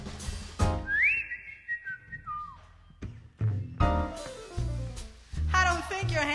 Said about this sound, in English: whistle a little tune for you.